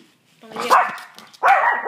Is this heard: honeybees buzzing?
no